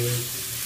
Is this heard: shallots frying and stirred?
yes